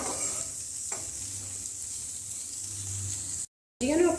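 Vegetables for pasta frying and being stirred in a pan, a steady soft sizzle with faint scraping, broken by a short silent gap before the hiss returns.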